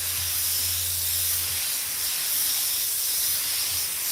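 Spray gun laying a dusting coat of candy paint over a metal flake base, heard as a steady, close airy hiss that runs throughout, with a low hum fading in and out beneath it.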